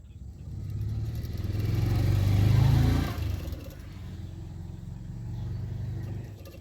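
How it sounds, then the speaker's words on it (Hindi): A sewing machine runs a stitch along the folded edge of a blouse, its motor whirring and speeding up to a steady buzzing clatter, then cutting off abruptly before a quieter hum resumes. "तो अभी मैं पीछे की तरफ फोल्ड करते हुए सिलाई करूंगी, मतलब कर रही हूँ।"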